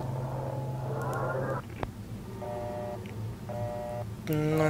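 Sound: telephone being dialed in the video game Detention

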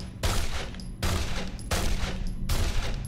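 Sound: enemy gunfire, video game Condemned: Criminal Origins

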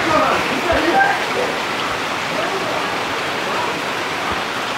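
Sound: floodwater rising and flowing into a house after rain

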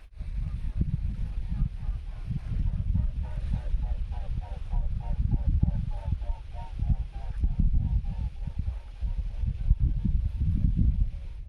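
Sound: two swans honking as they fly

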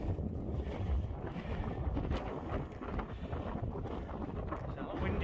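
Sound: wind on a Lake District fell summit

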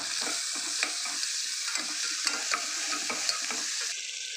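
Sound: sautéing tomatoes with turmeric and salt for mutton gravy

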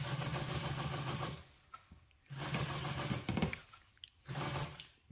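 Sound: sewing machine stitching a golf cart seat cover

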